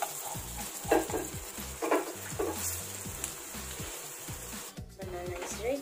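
Banana slices fry in hot oil with a steady sizzle, while a utensil scrapes and stirs the pan in regular rhythmic strokes close by.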